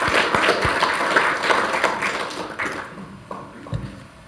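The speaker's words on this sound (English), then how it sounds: "I think it's worth giving them a round of applause" A room full of people giving a round of applause at a meeting, dense clapping that stays strong at first and then thins out, trailing off into scattered claps toward the end.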